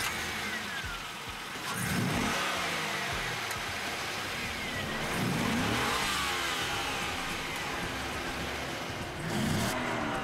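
A Monaro V8 muscle car engine revs in three rising surges, each climbing and falling back under a steady background drone, moderately loud and heard from inside or near the car, with no voices.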